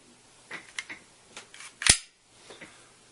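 Several sharp mechanical clicks from a Glock 27 pistol's trigger being dry-fired and handled, with one crisp, louder snap near the middle, all close and quiet with no talking.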